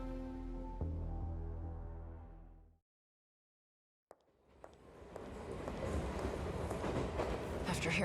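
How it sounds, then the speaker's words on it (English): A train ride in the video game 13 Sentinels: Aegis Rim: a music passage fades into brief silence, then a steady rumbling, rattling roll of carriages rises and carries on to the end. "I had no choice but to get on this train"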